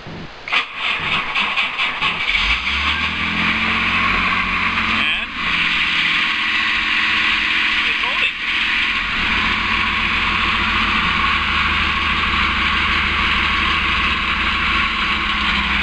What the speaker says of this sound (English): Time to start the car.